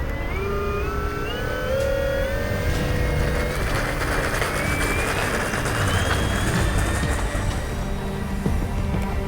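The electric motor of a large Flightline RC model Spitfire whines steadily in flight, rising and falling in pitch. It is heard outdoors under a constant loud rush of wind noise, and nobody talks.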